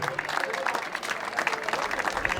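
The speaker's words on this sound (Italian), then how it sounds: "Fatevi un applauso, ve lo meritate" Festival audience applauding steadily at a village feast on an island of Venice, dense continuous clapping with crowd noise throughout.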